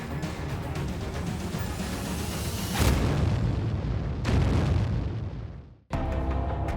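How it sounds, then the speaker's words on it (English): Explosive charges blowing up nuclear reactor cores at a facility in Toulon, heard as sustained loud booming blasts with heavy rumble, a fresh burst near three seconds and again past four, then a brief cut before another roar. "put explosives on them and destroy both of them"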